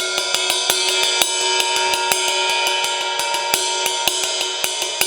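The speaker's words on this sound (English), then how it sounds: "an accent is where you play a note louder than the other notes" Ride cymbal played in a steady stream of strokes, with some hits noticeably louder than the rest, the bright metallic wash sustaining throughout.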